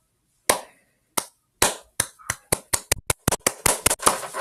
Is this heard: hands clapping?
yes